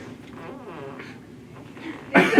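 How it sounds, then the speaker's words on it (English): A fart rumbles low and sputtering for a couple of seconds, building into a louder burst at the end, heard close with no talking over it. "this is a great time to fart"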